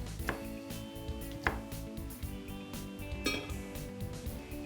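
A knife chops carrots, green peppers and bell peppers into small cubes, a few sharp knocks on a board standing out over a steady busy kitchen clatter and background music.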